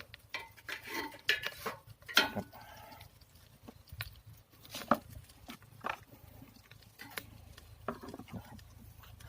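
Tree bark fed into a biomass cooking stove to build up a fire gives scattered light clatters and rustling knocks, close and irregular, over a low background hum.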